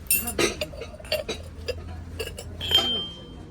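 Ukrainian porcelain cups and spoons clink together in several light, bright taps and knocks, close by, with short pauses between, at a rainy flea market in Kyiv.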